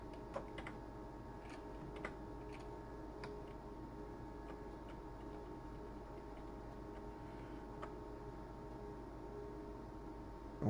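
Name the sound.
computer keyboard arrow keys being pressed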